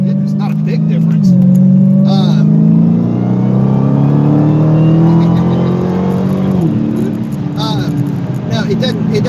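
A Dodge Hellcat V8 fitted with a K&N airbox filter runs loud and close, with a deep rumble that rises and falls through a few revs, while a person talks over it.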